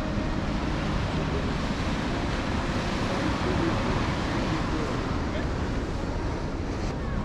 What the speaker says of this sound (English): Seeing the waves, hearing them.